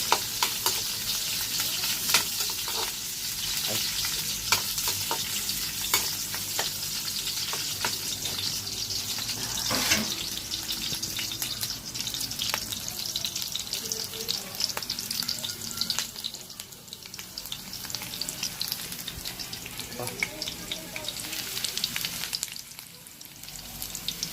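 Pork ribs caldereta sizzle and fry steadily in a pan, a dense continuous crackle with occasional stirring scrapes and brief bursts, close and fairly loud throughout with no talking.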